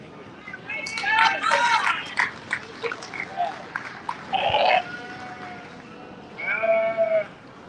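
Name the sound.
sheep bleating at a sheep show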